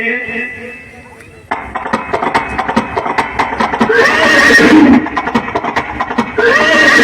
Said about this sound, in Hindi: सिद्धार्थ भगवान जब घोड़ा पर सवार होकर के चल देते हैं